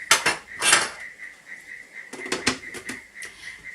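Dehydrating fruit slices, including peaches, are flipped on trays, with light clattering and scraping taps of the slices against the trays, close and irregular.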